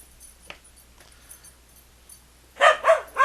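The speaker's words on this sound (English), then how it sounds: "you probably just heard the dog bark" A dog barks three times in quick succession near the end, close and loud, after a quiet stretch with faint indoor knocks.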